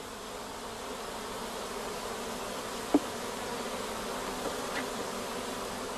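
Honeybees hum at a hive, a steady, dense buzz that stays soft and even throughout, with a faint tick or two and no voices.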